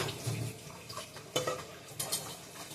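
Pots, pans and vessels being washed by hand in a home kitchen: faint clinks and scrapes of metal utensils, irregular knocks and light splashing, quiet and close.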